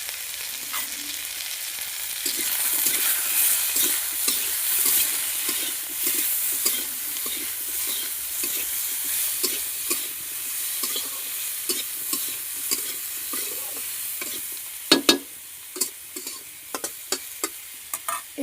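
Bitter gourd and potatoes frying in a pan, a steady sizzle with repeated scraping strokes of stirring throughout, close by, with a few sharper clatters toward the end.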